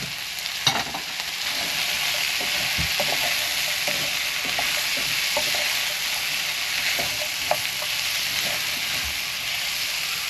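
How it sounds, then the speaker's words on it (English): Peppers, leek and bok choy stems fry in hot fat, giving a steady bright sizzle, with intermittent scraping and tapping as the vegetables are stirred around the pan close to the microphone. "Now I'm adding the peppers and the leek and the bok choy stems."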